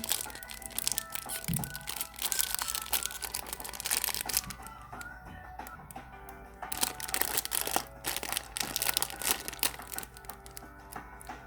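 The crinkly plastic wrapper of a Niloya surprise egg toy is torn open by hand, giving close, irregular crackling and crunching that runs throughout.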